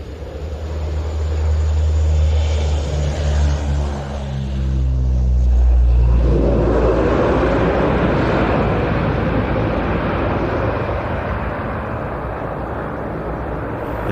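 A French Navy maritime patrol aircraft with a double-bubble fuselage takes off at an air show. Its engine roar is loud and steady, swelling as it passes close by and then holding a powerful, broad drone.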